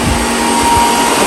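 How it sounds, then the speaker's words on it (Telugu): A kitchen mixer grinder jar runs with a steady, loud whirring motor hum and a thin tonal whine, brief and close, with no talking. "మిక్సీ జార్ సౌండ్ ఒకటి."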